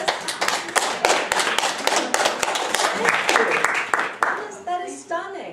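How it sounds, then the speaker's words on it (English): A small group in a workshop claps together, a close, uneven patter of hands that lasts about four seconds before thinning out, with a voice speaking briefly at the end. "Can we applaud this?"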